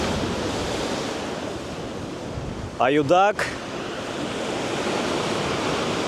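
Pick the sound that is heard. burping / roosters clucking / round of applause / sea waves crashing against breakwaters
sea waves crashing against breakwaters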